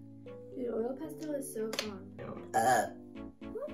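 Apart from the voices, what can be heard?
burp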